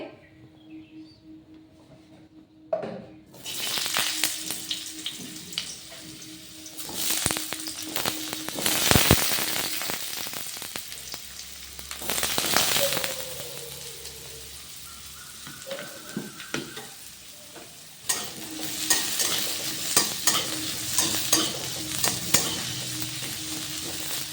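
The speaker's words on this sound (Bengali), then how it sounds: "এখন এই আলুগুলো ভেজে নেব আগে।" Potatoes frying in hot oil sizzle loudly in a pan, with bursts of crackling and spitting as the pieces are stirred, alternating with quieter stretches of steady sizzle.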